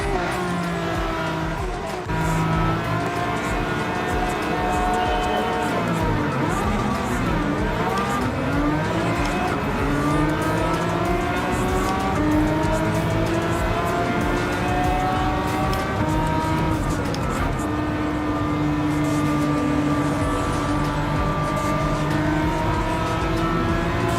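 Several 1980s and 1990s road cars race together in Gran Turismo 7, engines droning and shifting pitch as they pass one another, loud and continuous from start to finish with a short sweep of passing cars near the middle.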